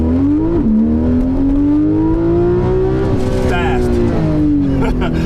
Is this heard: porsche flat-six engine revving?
yes